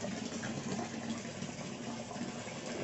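An Amara 105 water pump pushes water up a 2.1 m head, a strong, steady, rushing gush that stays even and unbroken throughout.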